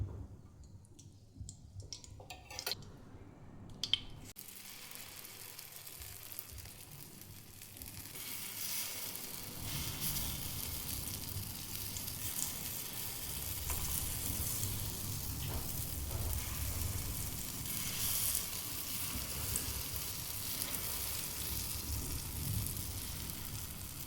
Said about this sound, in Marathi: तेल थोडंसं जास्त टाकायचं, चांगले भाजतात.